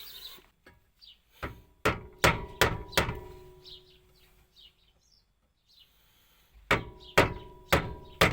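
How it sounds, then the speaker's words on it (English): Sharp metal hammer strikes on a square-shafted screwdriver driven against a Toyota Estima/Previa steering rack mount bushing, struck in quick bursts of four and five loud blows with quiet gaps between and faint birdsong in the background. "hit that square shafted screwdriver up the sides of the bushing"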